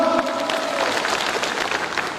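An audience at a Thai business marketing event claps loudly for the executives, a continuous wash of applause that stays dense and even throughout.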